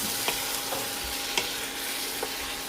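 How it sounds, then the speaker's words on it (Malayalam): Chicken pieces fry in a thick masala paste, a dense steady sizzle with a few light scrapes of a spoon stirring at irregular intervals. "അതിലേക്ക് ചിക്കൻ കഷ്ണങ്ങൾ ഇട്ട് കൊടുക്കാം. നന്നായിട്ട് മിക്സ് ചെയ്യാം."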